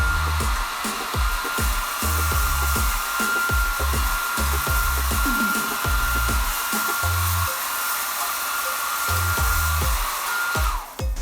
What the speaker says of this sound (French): on va prendre le sèche-cheveux pour souffler sur les grains